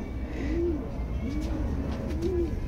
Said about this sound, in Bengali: দারুণ পায়রা।